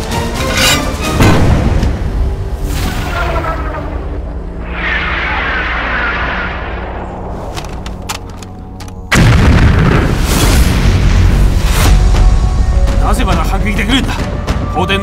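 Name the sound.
cannon artillery firing in a war battle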